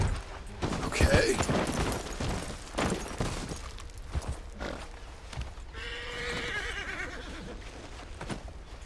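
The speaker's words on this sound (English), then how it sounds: "You're quite a horse." A horse in Red Dead Redemption 2 gives a loud whinny near the start, then a second neigh later, with hoof clops and scattered thumps around it and someone speaking softly in between.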